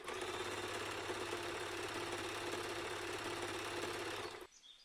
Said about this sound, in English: Time to head over to the sewing machine.